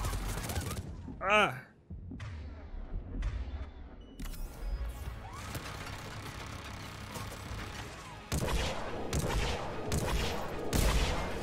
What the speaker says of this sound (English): Yeah, this shotgun's great.